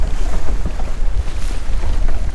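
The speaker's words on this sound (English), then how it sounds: "Okay, here comes the storm. It's starting to ramp up out here." Strong storm wind of about 30 knots roars and buffets the microphone aboard a boat in heavy, uneven gusts, with low rumbling and a wash of water noise.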